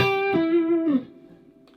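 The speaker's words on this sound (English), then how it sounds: "something like that on an acoustic guitar" A short electric-toned guitar phrase plays a few sustained, bending notes, then trails off into a lingering reverb tail.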